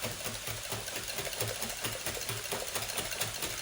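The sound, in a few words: mixing eggs and cream for breakfast casserole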